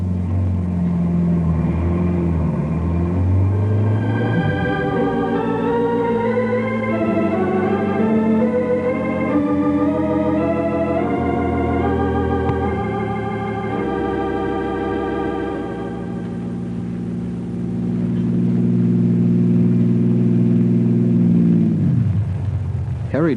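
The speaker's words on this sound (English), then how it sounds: "Harry drives the car a half-mile down the road." A car drives off down a road in an old-time radio drama sound effect. The engine revs up, climbs through the gears with rising whine and rumble, then settles into a steady cruising drone, loud and close with no voices.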